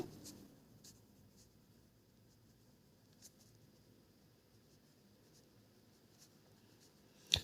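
A pen writes on paper during a class 5 math lesson, faint soft scratching strokes with a few brief ticks at irregular intervals over quiet room tone, ending in a sharp tap.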